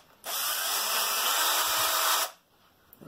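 A Bosch GSR 180-LI 18V cordless lithium-ion drill spins up sharply, whines steadily at high speed for about two seconds close by, then stops abruptly, followed by faint handling clicks.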